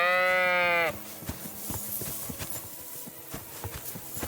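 Sheep bleating while being herded in Kingdom Come: Deliverance II: one loud, drawn-out bleat opens, then gives way to a steady patter of hooves and scattered bumps under a noisy outdoor ambience.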